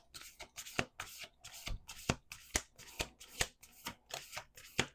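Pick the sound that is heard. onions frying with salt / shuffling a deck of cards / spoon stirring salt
shuffling a deck of cards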